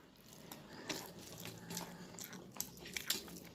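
Someone eating a home meal of cauliflower and potato curry with lentil dumplings in thin gravy, with soft irregular chewing and biting crunches close by, several sharper clicks and bites spread through a quiet, dim room.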